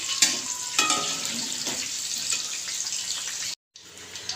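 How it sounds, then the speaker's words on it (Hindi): Potatoes and eggplant fry in a kadai of hot oil, giving a steady broadband sizzle with a few sharper crackles and brief stirring scrapes, then a short cut of silence near the end. "आलू और बैंगन को हमने बहुत अच्छे से फ्राई कर लिया है"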